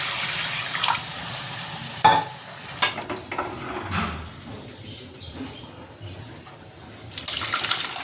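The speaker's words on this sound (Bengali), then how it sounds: "তেল ছেড়েছে এতে জলটাও দিয়ে দিই" Water poured into a pan of fried tangra fish and hot oil for a spicy curry, splashing and sizzling with stirring clatter, loud and close, then settling into a steady simmer.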